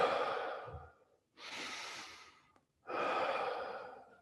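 Slow, deep breaths drawn in through the nose and let out through the mouth during a guided breathing exercise: three long, soft airy breath sounds separated by short pauses, close and quiet, with no talking.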